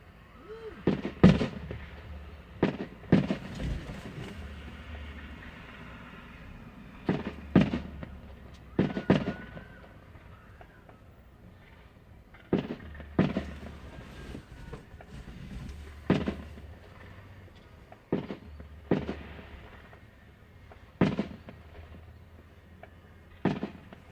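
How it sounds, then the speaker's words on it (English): A fireworks display at the Wayne County Fairgrounds by Legendary Entertainment goes off in a dozen or so sharp booms and pops, spaced irregularly over about 24 seconds, heard from a moderate distance with quiet gaps between bursts. "these fireworks are bigger than you."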